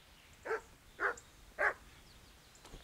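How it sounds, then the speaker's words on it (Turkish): Dogs in the medieval video game Kingdom Come Deliverance bark three times at an even pace, fairly faint and at a distance, with no talk over them. "Köpekleri var."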